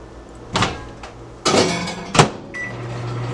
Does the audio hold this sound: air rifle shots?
no